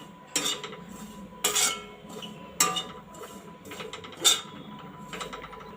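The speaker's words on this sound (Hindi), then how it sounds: "हम भूनेंगे नारियल का बुरादा" Desiccated coconut is stirred while roasting in a pan, with a spoon scraping and clinking against the metal in several sharp strikes spaced about a second apart over a low, steady background.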